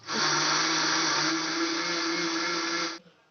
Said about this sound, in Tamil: இப்போ நம்ம மிக்சியில் அரைச்சி எடுத்துக்கலாம்.